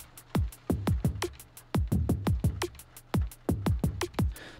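Dry neurofunk snare drum with no tube saturation, hitting in a fast, tight electronic drum pattern, close and loud, with punchy low drum thumps between the snare cracks and no voices.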